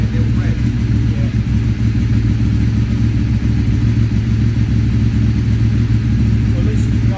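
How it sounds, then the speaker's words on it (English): A Ducati Evo motorcycle engine idles with a deep, steady rumble as the automatic choke settles, the throb holding loud and close throughout with no clear rise in pitch. "Wait for that automatic choke to turn off and give it a little rev."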